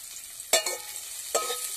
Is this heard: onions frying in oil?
yes